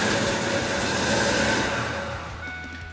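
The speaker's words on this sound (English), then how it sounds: "Start the car and let it run for a few seconds and then shut it off." A Fox Body Mustang V8 running at idle in a garage during power steering bleeding, a steady mid-pitched engine hum that fades slightly toward the end before shutoff.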